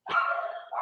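A dog barks once, loud and close, a single drawn-out bark that trails off into a short yip at the end, heard alone indoors.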